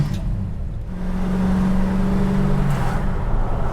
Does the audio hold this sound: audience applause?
no